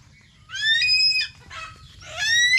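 Laying hens clucking and squawking nearby after being disturbed, three loud bursts of shrill calls separated by short pauses, with no talk.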